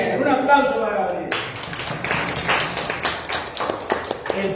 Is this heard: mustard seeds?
no